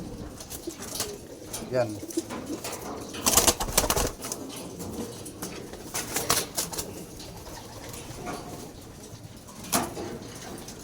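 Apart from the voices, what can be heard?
pigeon cooing and flapping wings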